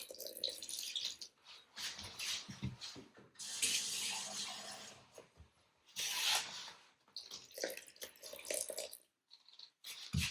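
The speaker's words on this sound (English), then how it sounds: "We're going to put 320 grams of water in. I like to use warm water." Warm water poured into a bowl while mixing sourdough bread dough, a broken run of splashing and trickling pours with short pauses between, close and moderately loud, with no talk over it.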